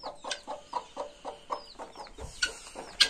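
An Aseel hen clucks with chicks, a steady run of soft, evenly spaced clucks near the listener, with thin chick peeps at higher pitch in between and a brief bump at the end.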